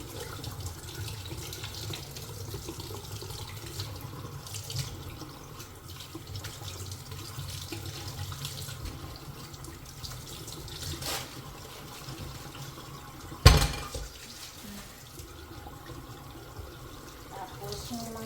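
Tap water runs steadily into a sink while oranges are washed, a continuous close splashing flow with one sharp knock partway through.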